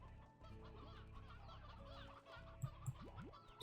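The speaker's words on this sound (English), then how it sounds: "Too many roosters" Roosters cluck in the farm game Slime Rancher 2, a faint run of low clucks over quiet background ambience with a couple of sharper calls near the end.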